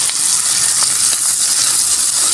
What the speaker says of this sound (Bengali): দেখুন চিংড়িটা আমি ভালো করে ভেজে নিয়েছি।